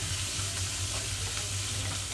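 Onions frying in a pan for a cabbage and carrot stir-fry, giving a steady, even sizzle with a low hum underneath, continuous and close throughout.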